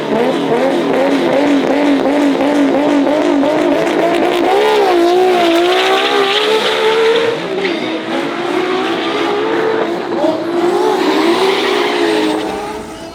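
Nissan S13 drag car making a pass, a loud close engine revving hard with rising and falling harmonic pitch through gear changes, tire noise and a high whine near the end, no talk.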